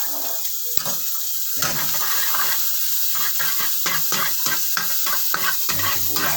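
Chopped onions sizzle and crackle in a hot pan for garlic fried rice, with a steady fry hiss and a string of scraping, stirring knocks; someone speaks briefly over it.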